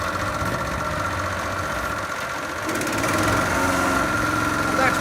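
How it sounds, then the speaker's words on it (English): Petrol-driven booster spray unit engine running steadily, then revving up to a higher, louder droning pitch partway through, close by with no voices. "Let me just put it on soap and I'll give it a few revs."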